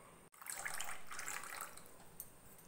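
Water is poured from a tumbler into amla juice, a steady splashing stream that runs for a few seconds after a brief pause, close and fairly faint, with no talk.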